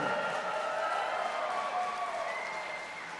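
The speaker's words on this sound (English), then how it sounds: "Let's give this round of applause for this side of the room" A gala crowd applauds one side of the room, a steady wash of many hands clapping that fades slightly toward the end, with some murmured voices beneath.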